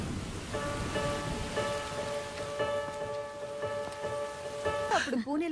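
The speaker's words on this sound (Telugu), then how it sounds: "అప్పుడు పూణేలో పెద్ద వర్షం" Heavy rain pours over Pune in a comedy movie scene, a steady hiss running throughout beneath a sustained music score, with a voice breaking in at the very end.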